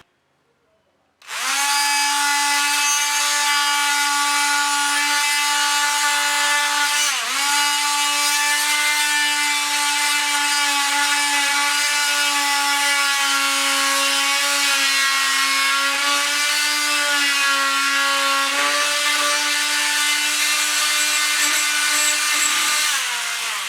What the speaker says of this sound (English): I use the oscillating saw to do that